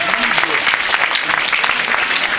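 A church congregation applauding the Lord, dense sustained clapping from many hands in a steady, lively burst filling the room.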